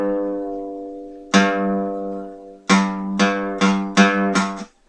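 Guitar note on a fretted string, first picked with normal finger pressure and left to ring, then plucked several times in a quick series while pressed too hard, each attack bright and close, with nobody speaking.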